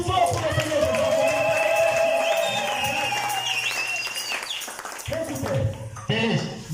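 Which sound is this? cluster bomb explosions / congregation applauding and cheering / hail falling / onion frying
congregation applauding and cheering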